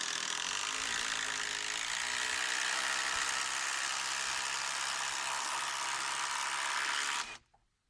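A power drill drives a 6-inch timber lock screw into wood without a pilot hole while building a strawbale toolshed roof, one long continuous whirring grind, close and loud, cutting off abruptly near the end.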